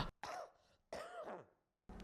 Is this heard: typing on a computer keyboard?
no